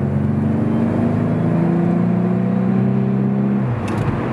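A 2012 Volkswagen Scirocco R turbo engine pulls hard under acceleration, a loud, steady droning hum building slowly in pitch for about four seconds, heard from inside the car with no voices.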